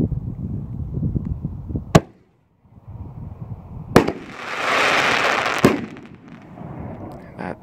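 Several 60g canister shell fireworks of the Six Shells of Vengeance kind burst outdoors, sharp loud booms with crackling, sizzling spread after each, heard over background talk.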